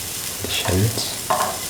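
Ginger, garlic and shallots sizzle in a hot pan for a chicken fried rice, with soft stirring scrapes and brief bursts of frying.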